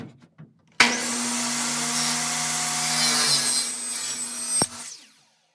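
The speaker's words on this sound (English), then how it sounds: "we're going to get our ceiling track cut." A power saw slices through a metal ceiling track for wall framing, one steady, loud, shrill cut lasting about four seconds with a bright ringing whine, ending abruptly, preceded by a few faint clicks.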